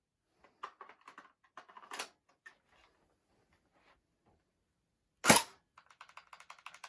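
A Tokyo Marui SCAR L airsoft rifle fired with the magazine out: a series of small mechanical clicks and rattles, then one sharp loud snap of the shot, followed by more quick clicking, close and otherwise quiet.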